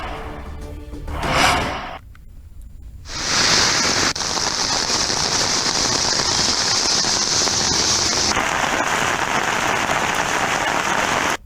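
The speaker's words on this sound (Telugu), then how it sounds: "ఉదయం నగరంలోని పలు చోట్ల కుండపోతగా వర్షం కురిసింది" Heavy monsoon downpour in Hyderabad, a dense broadband hiss of rain that surges after a brief lull and then pours steadily, loud and close, with no voices.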